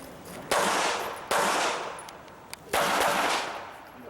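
Pistol shots ring out at an IDPA shooting match at an outdoor wildlife club range, three sharp loud cracks spaced irregularly, each with a long echoing decay and no talk.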